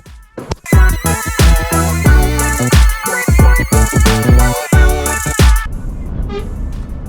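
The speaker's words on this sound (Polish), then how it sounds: "trąbić mi będzie" Car horns toot loudly in busy road traffic, a dense run of repeated honks and blaring tones lasting several seconds before easing into steady engine and road noise.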